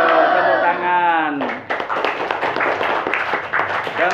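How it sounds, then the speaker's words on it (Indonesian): A classroom of students clapping together, a dense burst of quick claps starting after a teacher's spoken line and continuing loud and close to the end. "Betul, tepuk tangan."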